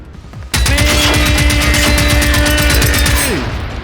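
Rapid automatic gunfire in the video game Generation Zero, a sustained loud burst of dense shots lasting about three seconds, accompanied by a rising synthetic whine before tapering off.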